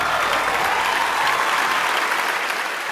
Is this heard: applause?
yes